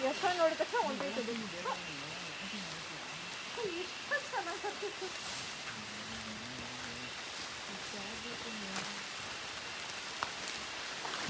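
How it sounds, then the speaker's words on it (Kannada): Rain falling on a hillside outing near Kannur, a faint, steady patter that hisses quietly beneath people chatting, with voices louder at the start and a few brief bumps along the way. "ನಾವು ಇದ್ರಲ್ಲಿ ಮಳೆಯಲ್ಲಿ ಇದೀವಿ"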